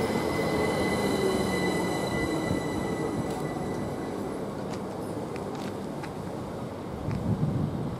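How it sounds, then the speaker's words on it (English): A Great Northern Class 387 electric train at Cambridge North station, heard close with a steady rolling rumble, squealing wheels and tonal electric whine throughout, plus some wind buffeting on the microphone. "And this is the 12:39 service from London King's Cross to King's Lynn."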